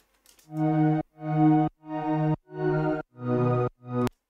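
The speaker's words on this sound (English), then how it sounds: "So I've added this pad on it" Synth pad layered onto a drop section, six soft sustained chords in an even pulse, each swelling in and cutting off cleanly, moderately quiet with no voices.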